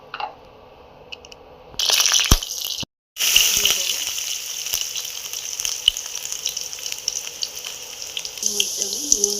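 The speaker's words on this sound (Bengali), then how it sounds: "কড়া গরম হয়ে গেছে, তেল দিয়ে দেবো। সর্ষের তেল দিলাম।" Mustard oil poured into a very hot pan, a quiet start then a sudden loud rush of sizzling after a brief gap, holding as a bright steady crackle close by.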